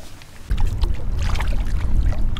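A kayak being paddled into a stout south wind on a cold 37-degree winter day: a steady broadband rush of water and wind starts abruptly and continues close and fairly loud, with no talking.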